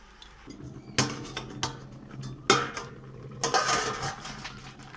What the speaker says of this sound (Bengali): এটা থালা দিয়ে চাপা দিয়ে দিয়ে সেদ্ধ করে নেব